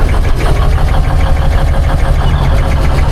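A truck engine with a faulty throttle pedal running loud and close, its rough, knocking drone rising and falling in uneven surges as the pedal is worked, with no voices.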